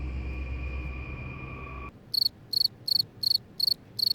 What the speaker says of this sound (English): green tree frogs chirped, a million crickets